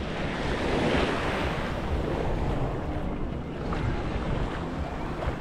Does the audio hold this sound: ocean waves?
yes